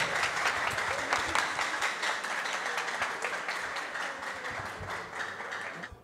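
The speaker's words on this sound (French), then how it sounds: "On applaudit très chaudement," Warm applause from a school audience at an interschool quiz contest semi-final, dense steady clapping that fills the whole stretch and slowly thins toward the end.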